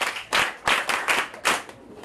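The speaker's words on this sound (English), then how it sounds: "Clap for yourselves." Bursts of hand clapping, about five quick rounds in two seconds, close and fairly loud, from an audience told to applaud themselves.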